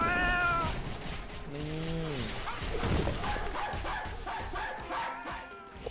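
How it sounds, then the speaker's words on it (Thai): A dog in a video game barks and yelps loudly in a few short, sharp bursts over busy game noise and effects. "หมาเห่าโคตรดังอ่ะ"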